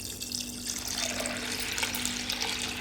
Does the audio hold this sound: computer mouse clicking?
no